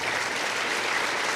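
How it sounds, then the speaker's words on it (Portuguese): Brief burst of audience applause in the Teatro Casa Grande during a political reform debate, a dense even wash of clapping heard at a moderate distance. "e o aplauso"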